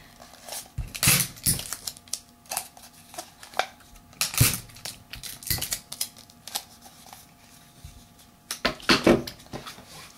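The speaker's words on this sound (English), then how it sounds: "Now I'm gonna tape it." Tape being pulled and pressed onto a rolled paper tube for a paper Desert Eagle model, heard as scattered crinkles, rips and taps, with louder bursts near the start, middle and end, close up and with no talking.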